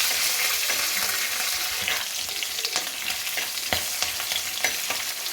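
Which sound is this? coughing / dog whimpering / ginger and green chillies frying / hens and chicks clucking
ginger and green chillies frying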